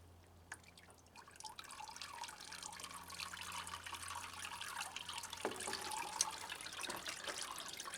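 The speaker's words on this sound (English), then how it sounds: "So we'll just water this one in." Water is poured into a freshly repotted orchid set in bark, a soft steady trickle and splash with scattered drips, faint and close.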